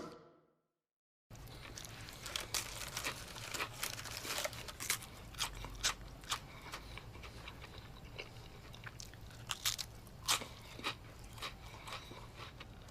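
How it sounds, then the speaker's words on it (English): Close, crisp crunching and chewing sounds repeat irregularly after a brief silence, like something brittle being bitten and chewed. "we must eat crunchy bugs"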